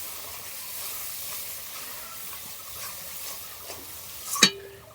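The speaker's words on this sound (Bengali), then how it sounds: "আদা টমেটোটা পেস্ট করে নিয়েছিলাম এটা দিয়ে দিচ্ছি" Ginger-tomato paste sizzles and hisses in a hot pan while being stirred for a vegetarian ghugni, a steady frying crackle ending in a sharp clank of the spoon against the pan.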